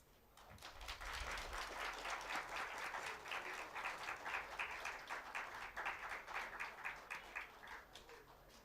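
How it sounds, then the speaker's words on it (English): Journalism students at a college campus event applaud steadily, the dense clapping building and holding for several seconds at moderate loudness with no talk over it. "Keep the claps rolling, students."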